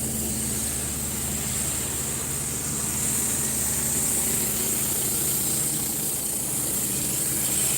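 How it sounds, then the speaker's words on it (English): A van-mounted 300 bar pressure washer powered by a big 60 horsepower diesel engine runs steadily, a continuous droning engine hum with a high whine on top, heard alone without talk. "there is 300 bar, 28 litres a minute, with a big 60 horsepower diesel engine"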